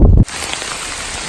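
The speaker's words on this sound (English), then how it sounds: "All right, the rain is coming down. Now it's pretty heavy." Heavy rain falls steadily outdoors on a wooded road in fog, a dense even hiss that begins abruptly after a brief burst of louder noise.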